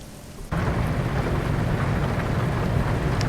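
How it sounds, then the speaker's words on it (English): In Euro Truck Simulator 2, steady rain on a Volvo FH16 780 truck suddenly swells into a dense, hissing downpour that continues evenly, with a low rumble underneath. "That's us cruising along in the rain,"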